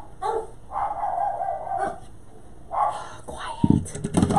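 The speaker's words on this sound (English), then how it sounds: "The neighbor's dog just never stops barking." A neighbor's dog barks in repeated bursts from nearby, sharp yips and barks separated by short pauses, ending with louder clattering and noise at the close.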